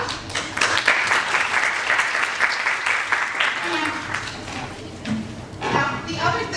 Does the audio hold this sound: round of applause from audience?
yes